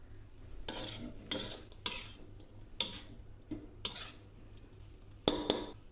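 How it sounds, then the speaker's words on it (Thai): Mee sua noodles stir-fried in a wok with little oil, a utensil scraping and tossing in about eight distinct bursts over a quiet sizzle, close up with no talking. "แต่ว่าผัดเส้นออกมาแล้วคือเส้นไม่ติดกระทะนะคะ"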